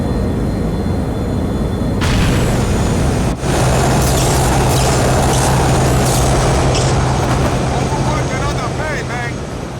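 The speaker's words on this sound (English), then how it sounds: "when half the plane explodes" Loud in-game explosion aboard a plane in GTA IV, a sudden broadband blast followed by sustained roaring engine and wind noise with rumbling debris, while voices talk over it.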